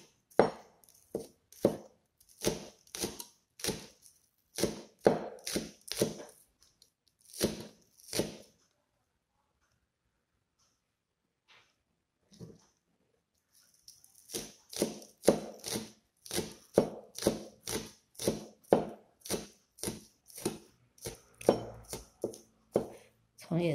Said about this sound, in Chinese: 我也是把它切碎碎的。